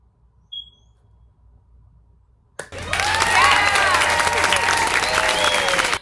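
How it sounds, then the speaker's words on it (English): A short beep in near silence, then a sudden burst of loud crowd applause and cheering with whistles, sustained for about three seconds before stopping. "Round of applause for me."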